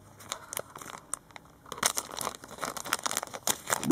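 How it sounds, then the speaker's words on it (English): Crinkling and tearing of a plastic bag being opened around collectible postcards and art cards, with sharp irregular crackles that grow louder and busier partway through, close up and with no talking. "which I'll open the bag"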